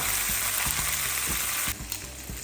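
Lacquered chicken fillets sizzle steadily in a pan while being basted, a bright continuous frying hiss with soft repeated spoon taps and scrapes, close by and without talk.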